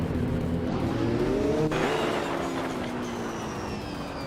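Race cars in a racing video game, among them a 1999 Chevrolet Corvette, with engines droning and shifting pitch as the cars pass, a steady moderate wash of motor noise and no talking.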